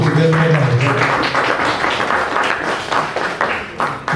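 Audience applause at a stage performance in a hall, a dense steady patter of many hands clapping at once, loud and close, with a voice heard briefly at the start.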